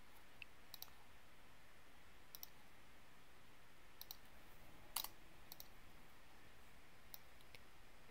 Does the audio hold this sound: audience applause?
no